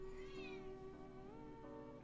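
A pet cat meows softly nearby in a drawn-out, wavering cry with no talking, set against a quiet indoor background.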